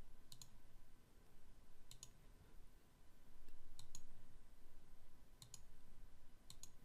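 Computer mouse clicking during image analysis work: small, crisp clicks arriving in pairs, spaced a second or more apart over a faint steady hum of room noise.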